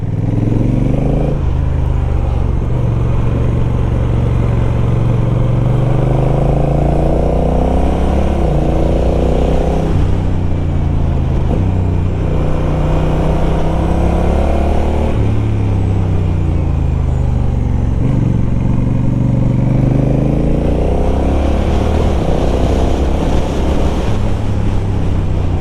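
Honda CMX1100 Rebel cruiser motorcycle being ridden, a loud continuous engine drone under heavy wind rush, rising and falling in pitch through several gear changes.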